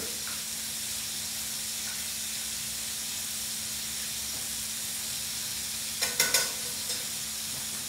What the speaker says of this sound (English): Let me let me finish flipping these nuggets